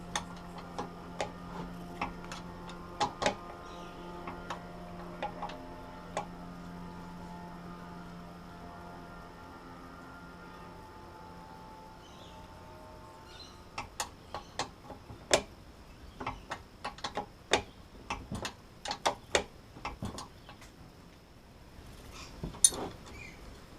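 Wrench work undoing 14mm and 12mm bolts on an outboard motor's steering bracket: sharp metallic ticks and clicks, sparse at first, then a dense burst of ratcheting clicks, over a faint steady hum.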